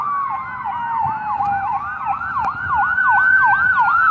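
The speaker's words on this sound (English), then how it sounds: "Bristol ambulance probably responding to a car crash or someone that spun out." A wailing Bristol ambulance siren sweeps up and down in quick repeated cycles, loud and steady, continuous throughout.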